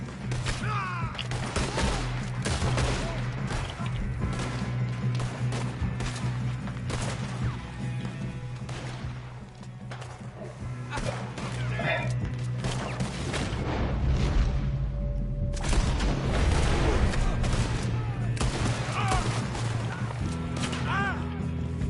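Repeated gunshots and booming blasts ring out in a Red Dead Redemption 2 shootout, irregular cracks and thuds over low game music, with voices talking between the shots.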